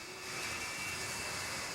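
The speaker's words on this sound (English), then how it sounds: "Jet dryers out on the racetrack working to dry what little moisture was put down on the track." Jet dryers roll along a NASCAR oval at the 2008 O'Reilly Auto Parts 500, drying a damp track; a steady, loud jet-engine roar with a high whine holds throughout.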